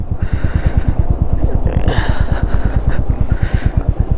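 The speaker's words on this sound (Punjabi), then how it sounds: "ਪਹਿਲਾਂ ਮੋਟਰਸਾਈਕਲ ਦੀ ਤੁਹਾਨੂੰ ਪਾਰਕਿੰਗ ਦੇ ਵਿੱਚ ਮੋਟਰਸਾਈਕਲ ਲਾ ਦਈਏ ਸੇਫ ਥਾਂ ਤੇ" A motorcycle engine idles nearby in Nagaland with a rapid, even thumping putter, while some faint higher noise drifts over it.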